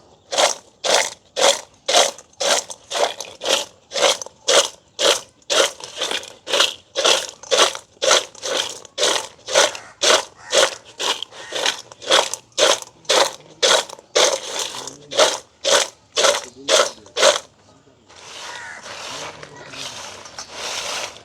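Fried chips are tossed with spice powder in a container, giving about thirty loud, rhythmic crunching rattles in quick succession, followed by a softer continuous rustle near the end.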